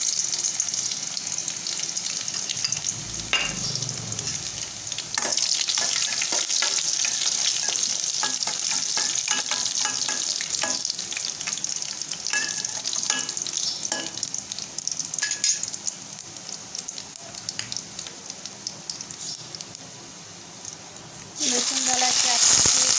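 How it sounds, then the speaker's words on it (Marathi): Mustard seeds and garlic sizzle and crackle in hot oil for a Khandeshi dhaba-style shev bhaji curry, a steady close frying hiss with stirring clatter. A voice talks over it. "हे पहा, तेल मस्तपैकी गरम झालेलं आहे। आपण मोहरी टाकून घेऊ। मोहरी झाली की लसूण,"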